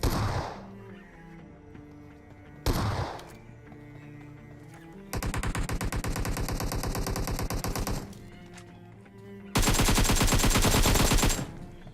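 Bursts of automatic gunfire from a firefight in PUBG: two short loud volleys early on, then two long sustained rapid-fire stretches around the middle and end, close and loud with no talking.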